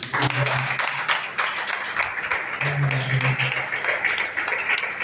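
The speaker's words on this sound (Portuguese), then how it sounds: "salve de palmas" A church congregation claps and applauds steadily for several seconds, with voices mixed in.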